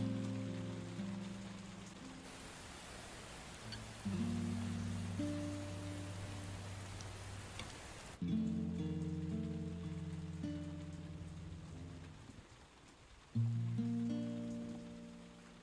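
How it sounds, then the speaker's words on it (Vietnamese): Heavy rain pours steadily as a broad hiss while tonal background music plays over it, with no voices. "Hôm nay còn mưa rất to."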